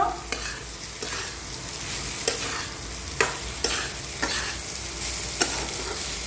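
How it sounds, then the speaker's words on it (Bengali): Pasta being stirred in a pan with a well-fried egg, giving a steady low sizzle of frying with sharp spoon or spatula scrapes and clinks at irregular intervals, close and alone with no talk. "এখন আমি এইগুলোতে পাস্তা দিয়ে দেবো। পাস্তা দিয়ে একটু নাড়িয়ে নেব।"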